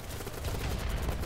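Gunfire in the video game Battlebit, a dense burst of rapid shots from a full-auto weapon, loud and continuous through the short moment.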